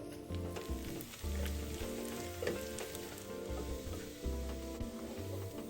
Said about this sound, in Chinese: 小紅蔥50克，切片後放入鍋內爆香